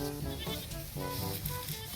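A goat bleats steadily with a wavering, nasal cry, close and fairly loud over a noisy outdoor background.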